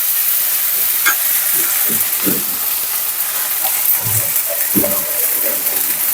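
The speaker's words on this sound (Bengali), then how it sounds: "আদা রসুন বাটা এখন লবণ হলুদের গুঁড়া জিরা ধনিয়ার গুঁড়া দিয়ে মশলাটা ভালো করে কষিয়ে নিব" A paste of ginger, garlic, turmeric, cumin, coriander and salt fries loudly in a pan with a dense continuous sizzle, while low scraping knocks from stirring come through now and then, no speech.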